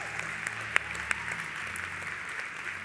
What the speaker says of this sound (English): we're going to applaud for you.